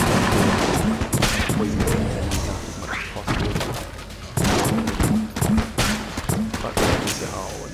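Vulcan Cannon gunfire in the video game Enter the Gungeon, a loud, relentless stream of rapid shots with booming thuds under it, pounding on with little pause.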